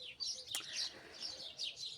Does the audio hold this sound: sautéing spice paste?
no